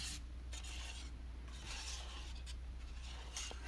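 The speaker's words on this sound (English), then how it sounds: "Keep stirring very well." A whisk or spatula stirs a smooth dark chocolate truffle mixture in a bowl, producing soft repeated scraping and rubbing strokes, quiet and close over a low steady hum.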